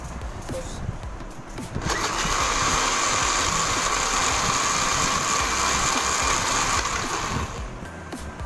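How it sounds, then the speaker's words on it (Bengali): An electric blender whirs steadily as it blends grill chicken sauce with mustard paste, jelly and pickle mustard oil, starting abruptly after a quiet moment and running loud and even for several seconds before easing off. "এটাকে এখন আমরা আবার ব্লেন্ড করব।"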